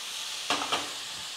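Tomato is stirred into fried onion and green chilli in a pan, with two brief scraping stirs over a soft, constant sizzle.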